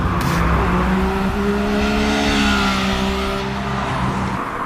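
A 2019 Triumph Speed Triple RS with its liter engine revs hard, a loud, sustained engine roar with rising and falling pitch, close and continuous with no speech.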